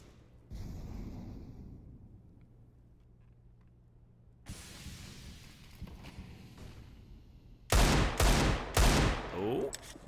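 P250 pistol fire in Counter-Strike on the Mirage map during a competitive match: a few loud, close shots in quick succession near the end, after quieter game ambience and distant firing, with faint commentary.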